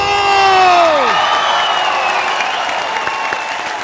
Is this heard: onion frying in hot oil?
no